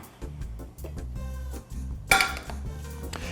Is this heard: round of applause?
no